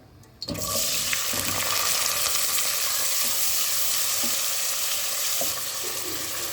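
Two medium onions hit hot oil in a pan for a potato and tinda curry, bursting into a loud, steady sizzle that starts abruptly and holds at an even, close crackle with no talk.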